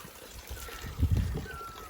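Fresh spring water from the mountains near Rohru, Himachal Pradesh, trickles and pours in a soft, continuous wash that swells briefly at the midpoint, fairly faint and heard on its own.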